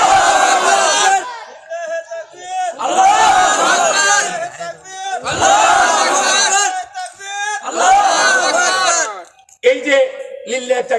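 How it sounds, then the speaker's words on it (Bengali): A large crowd chants the takbir slogan in unison at a religious gathering in Bangladesh, loud bellowed shouts repeating in rhythmic bursts with short pauses between, voices roaring together and close. "এই যে লিল্লাহি তাকবীর দিচ্ছেন"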